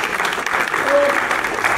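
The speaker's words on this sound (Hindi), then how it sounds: "जोरदार तालियां एक बार मैम के लिए।" Sustained applause from an audience honoring a female teacher at the inauguration of a school music and dance competition, a dense, steady wash of clapping with no breaks throughout.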